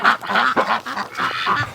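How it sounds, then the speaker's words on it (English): Ducks quack and honk loudly up close, a rapid series of nasal calls overlapping for a couple of seconds. "I was keeping the camera on the ducks, but Doug was going around"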